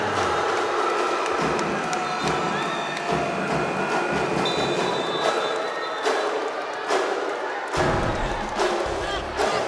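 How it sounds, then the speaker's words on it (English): A crowd at a women's college volleyball match in an indoor gym cheers and roars loudly after a game-winning kill, a dense sustained din with a surge partway through and an announcer's voice underneath. "The crowd is going crazy after this game-winning kill by Pau de Guzman."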